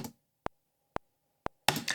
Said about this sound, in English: we still have that nasty blippy click sound